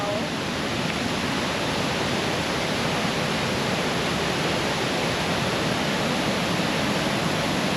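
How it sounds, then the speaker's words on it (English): Powerful waterfall in Ubud, Bali, cascading over rocks: a loud, steady, broadband roar of crashing water heard up close, continuous and unchanging throughout. "we could hear the waterfall, but we've just seen it and wow"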